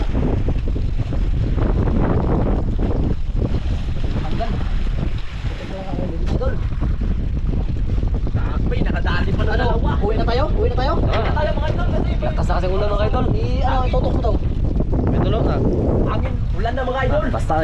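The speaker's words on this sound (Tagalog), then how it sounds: "sanggup pa mga kaidol sa lakas ng hangin saka ulan" Strong wind roars and buffets the microphone constantly on open water in rain, with a voice talking loudly over the gusts.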